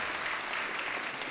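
Brief, fairly faint wash of audience applause at a political party convention, an even, continuous clatter of many hands heard from a distance.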